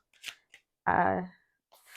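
Glossy playing cards are shuffled in riffle and overhand styles, giving short papery fluttering bursts before and after a brief stretch of close talking.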